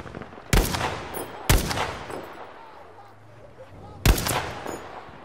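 Three sharp gunshots from a ZA-29 in Battlefield V ring out, two close together near the start and a third a few seconds later, each with a decaying echo over low background noise.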